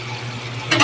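Bitter gourd (ampalaya) dropped into a hot pan for sautéing, a low steady hum giving way to a sudden bright sizzle in the last moments, close and fairly loud.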